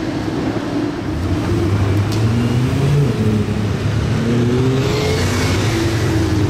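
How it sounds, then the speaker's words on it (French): A Wiesmann V10 sports car engine drones and revs steadily nearby at night during the Monaco Grand Prix, its deep throaty tone holding over a wash of surrounding traffic noise. "on a entendu le V10 de la Wiesmann"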